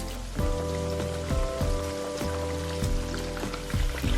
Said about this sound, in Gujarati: રીંગણા તળાઈ જાય એટલે ફુલાવરને લઈ અને તેને પણ તળી લઈશું.